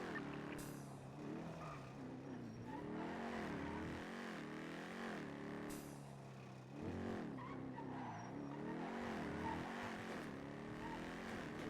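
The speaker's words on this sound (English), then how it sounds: "I swear I heard a car." Car driving in the NoPixel 4.0 roleplay video game, revving engine with repeated rising and falling pitch sweeps, tire skids and squeals, fairly steady and quiet throughout without speech.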